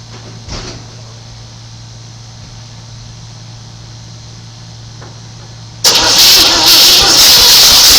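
A cold 1972 dually pickup truck engine with the choke on, cranking after a long quiet stretch with a faint steady hum; near the end it bursts into loud, sustained broadband roar as it catches and runs.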